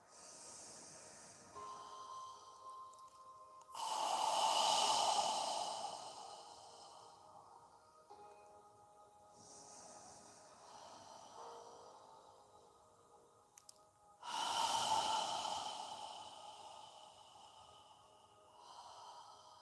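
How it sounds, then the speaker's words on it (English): Slow, deep yoga breaths drawn through the throat, two long audible exhales swelling loud and then fading, separated by quieter stretches with a faint tone in the background. "Feel the air moving against the back of your throat on the exhale"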